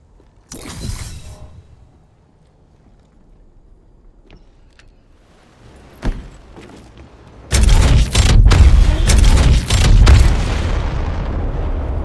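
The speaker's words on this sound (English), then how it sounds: "Let's make a getaway with this gravity cannon." An Apex Legends gravity cannon fires with a sharp booming launch, a lone thud follows, then a loud sustained stretch of crashing, rumbling blasts.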